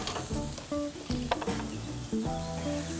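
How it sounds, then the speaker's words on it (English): Ahi tuna sears on a hot barbecue with smoked salt, crackling softly and close in uneven bursts, with some squeaky tonal sounds mixed in and no voices. "I'm gonna sear that."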